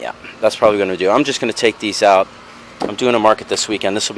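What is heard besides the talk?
No distinct noise like a dog, phone or traffic.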